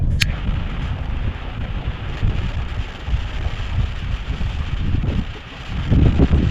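Gusty wind buffets the microphone outdoors during an autumn predator-fishing session, a constant low rumble that swells and dips and grows stronger near the end, with no voices.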